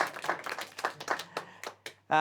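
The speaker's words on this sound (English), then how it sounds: "So the cast are clapping the audience, which is good." Cast members clapping toward an audience at an improv comedy show, a handful of separate claps in an uneven rhythm, fairly close, ending with a brief burst of voice.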